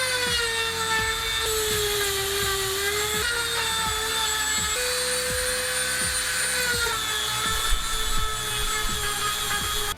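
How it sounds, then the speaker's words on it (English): A power tool sanding wood runs continuously at close range, a steady high-pitched whine with a droning hum underneath and slight pitch wobbles. "I'm gonna actually find a power tool to do the work for me."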